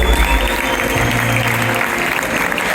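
Audience applause at a Rwandan gospel concert, a dense, steady wash of clapping that fills the whole stretch, with a sustained low tone and faint voices mixed in.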